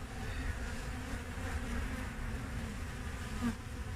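A steady, dense hum of honeybees fills the air around an open hive frame holding pollen and honey during a brood check. The buzzing is close and continuous, with no talking.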